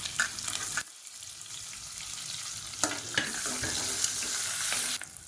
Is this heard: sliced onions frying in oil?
yes